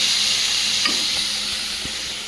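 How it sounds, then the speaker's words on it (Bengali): Fish frying in a pan on a home kitchen stove, a steady broadband sizzle running throughout with a few soft clinks of stirring, fairly close and even, no voices. "এদিকে মাছটা ভাজা হতে হতে আমি"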